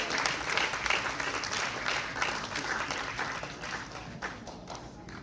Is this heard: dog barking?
no